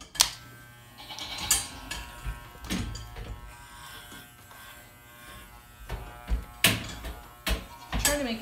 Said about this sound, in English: I'm also gonna be shaving her tail.